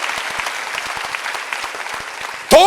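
A church congregation at a Sunday service claps steadily in continuous applause, and a voice cuts in loudly at the very end.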